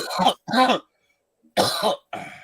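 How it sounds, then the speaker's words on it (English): A few sharp coughs in quick succession, close and fairly loud, followed by a pause and two more coughs. "that cough just proved my point"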